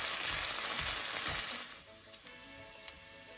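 Steak frying in a pan on the stove, a dense crackling sizzle that is loud at first and then drops to a softer, steady fizz with a few sharp pops.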